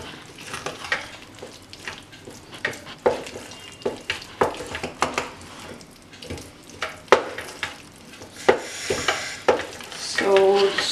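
Paprika risotto being stirred in a pan, close soft scrapes and sloshing pulses repeating in uneven strokes over a faint sizzle.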